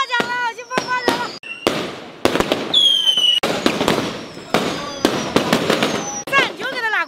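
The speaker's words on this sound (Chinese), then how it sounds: "看，我要去放炮仗了，我去放炮仗" Firecrackers set off in the rain at a rural Chinese wedding banquet crackle and bang in a long, rapid string of sharp, loud pops, with high whistling streaks, while people talk.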